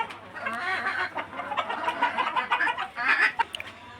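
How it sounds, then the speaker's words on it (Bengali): Chickens cluck in a poultry house where hens sit on eggs, a dense chorus of overlapping clucks and calls close by, continuous over a low steady hum. "এই যে মুরগি ডিমের জন্য বসিয়ে আছে, মুরগি পারব।"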